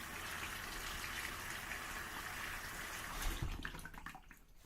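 Water runs steadily from a tap for wetting the face before a shave, a soft continuous gush close by that tapers off near the end, with no talking.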